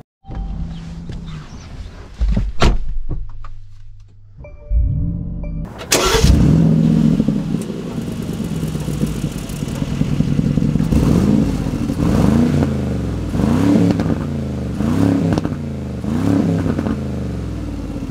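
A 2024 Mercedes G-Wagon Final Edition V8 engine cranks and fires up with a sharp catch, then settles into a deep idle followed by a series of rhythmic blips and revs, close and loud.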